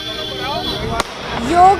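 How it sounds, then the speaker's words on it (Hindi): Firecrackers go off at an outdoor oath ceremony at Atal Stadium in Lucknow, one sharp crack standing out among scattered pops beneath a reporter's continuous talk and crowd noise. "तो ये पटाखों का दौर भी शुरू हो गया है"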